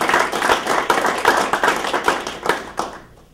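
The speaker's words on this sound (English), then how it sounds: "Clap it up," An audience at a presentation event claps together in a dense, lively burst. The applause is loud and close, and it fades out quickly after about three seconds with no voices over it.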